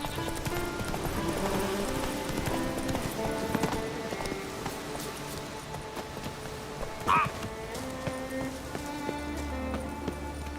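Horse hooves clip-clop at a steady gallop in Witcher 3, mid-loud against a bed of game music and rain-like patter, with a short brighter knock near the middle.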